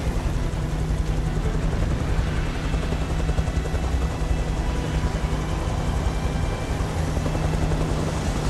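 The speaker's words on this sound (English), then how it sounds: "Gonna get away from a helicopter." Helicopter in the video game Beyond Two Souls, a continuous loud rotor thrum and whine holding steady throughout, with no voices.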